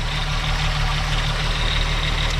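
A VW Jetta VR6 engine in a US-spec MK4 wagon idles smoothly and steadily up close, with an even low rumble and a faint whirring that may be chain noise or the auxiliary pump.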